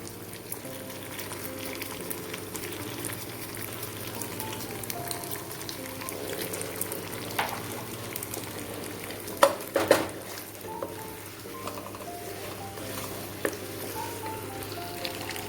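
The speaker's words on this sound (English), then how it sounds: "I'll give this a nice stir." A spoon stirs Alfredo pasta sauce in a pan, making faint scraping and a couple of clinks over a soft bubbling sizzle.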